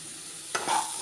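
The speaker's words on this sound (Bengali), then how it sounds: "নারকলটাকেও কিন্তু সুন্দরভাবে পেঁপের সাথে ভেজে নিতে হবে" Grated coconut and spices frying with papaya in a pan, a soft continuous sizzle broken by a brief stirring scrape midway.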